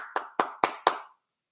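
A coach of the Bills claps four times at a steady, even pace during a Monday night game against the Broncos; the crisp, close claps are heard alone and followed by silence.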